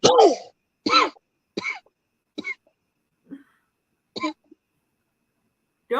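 A string of short, sharp coughs and throat-clearing bursts from one nearby person, about six separate hacks spaced by silent pauses, with no talk.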